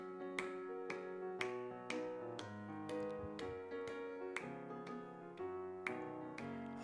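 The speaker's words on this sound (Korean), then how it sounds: "찬송가 180장 우리 박수하면서 찬송하겠습니다" A congregation at an early-morning church prayer service claps along to a hymn, sharp evenly spaced claps about twice a second over a sustained organ or keyboard accompaniment, with no singing voices standing out.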